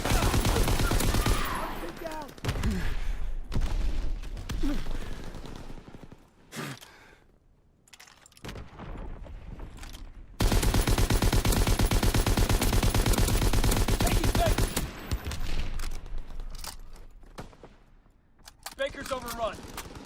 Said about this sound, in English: I need to shoot down a UAV